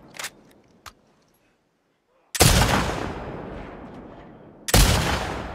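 A scoped rifle firing in The Last of Us Part II: two loud, sharp shots a couple of seconds apart, each followed by a long decaying echo, after a few faint clicks and a near-silent gap.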